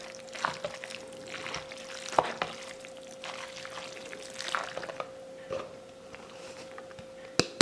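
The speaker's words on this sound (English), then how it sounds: "Pour a little bit more. I'm just mixing it in a little at a time." Liquid poured into a baked rotini noodle and sauce mixture as it is stirred in a little at a time, with soft wet sloshing and scraping, a few sharper clinks of utensil on dish, close and fairly quiet.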